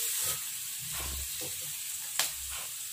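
Garlic sautéing in a pan for tuna pesto gives a steady, low sizzle, with a few soft stirring scrapes and one sharper clink, close by and without talk.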